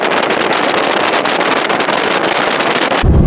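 Loud, constant wind roar batters the microphone on a Volkswagen Thing, broadband and rushing, with a deeper low buffeting gust at the very end.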